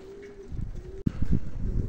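German pigeons cooing on a rooftop, a close, loud throaty coo repeated in short rolling bursts, with a brief sharp knock midway and a faint thin whistle early on.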